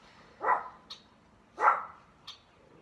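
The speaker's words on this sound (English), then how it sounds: "my dogs are barking at squirrels." Dogs bark at squirrels outdoors: two loud, separate barks about a second apart, each trailed by a fainter, higher yip. Otherwise the scene is quiet.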